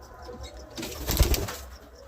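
Giribaz and Madras breed pigeons in a home loft make a soft, close burst of fluttering and wing flapping around the middle, with faint cooing and rustling against a quiet background.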